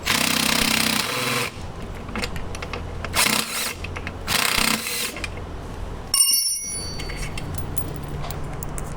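Power tool removing half-inch bolts from a 1996 Club Car DS golf cart, with loud bursts of rattling, hammering tool noise separated by quieter shop sound and a few sharp clinks.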